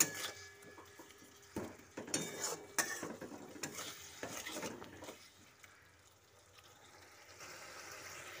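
Spice paste for a prawn and pointed gourd curry being sautéed in a pan, with scraping and clinking stirs in an irregular rhythm over a soft sizzle that fades to a quieter hiss toward the end.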